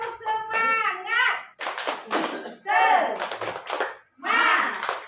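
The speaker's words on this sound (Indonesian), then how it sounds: "1, 2, 3. Tepuk semangat." A group in a classroom performs a rhythmic spirit clap: short bursts of hand claps mixed with loud chanting voices in a call-and-response pattern, with brief pauses between phrases.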